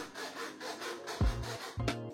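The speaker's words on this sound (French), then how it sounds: "du coup je le coupe à la scie à métaux pour obtenir la bonne taille" Short back-and-forth strokes of a hacksaw cutting through a metal shaft, a few rasping passes close by.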